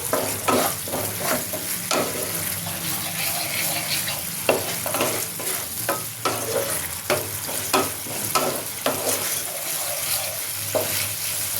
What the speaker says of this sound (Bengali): এবার এটাকে ভাজতে হবে। মশলাটাকে ভালো করে কষিয়ে নিয়ে আসবো।